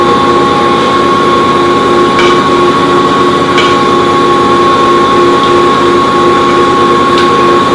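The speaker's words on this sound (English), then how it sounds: "And then we turn the mixer on. A little noisy." Electric stand mixer running loud and close while mixing fresh milled wheat bread dough with eggs, a constant motor hum and whine with faint periodic knocks.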